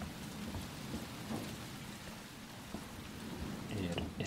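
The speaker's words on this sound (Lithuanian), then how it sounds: "Vėjas, lietus." Wind and rain in the video game Resident Evil 2 Remake, a faint steady rush of rainfall with a low rumble underneath and a few soft thuds, heard at low volume with a voice talking over it.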